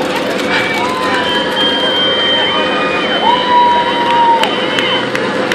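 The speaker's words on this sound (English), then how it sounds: "They're cheering for him." Parade crowd cheering for a passing cleanup crew member, a steady outdoor roar of cheers and babble held at an even level throughout, with no distinct voice standing out.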